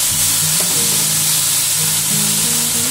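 Okra frying in a pan with the lid lifted, a steady broad sizzle running throughout while a utensil scrapes and stirs it in repeated strokes, close and fairly loud with no voices.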